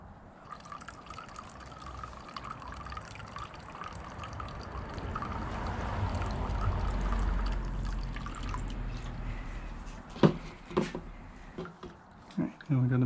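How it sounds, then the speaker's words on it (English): Red car paint for a Honda CR-Z pours into a measuring container as a steady liquid stream, while someone speaks over it; the pouring gives way to a few drips near the end. "So we're gonna do 300 milliliters of the red here."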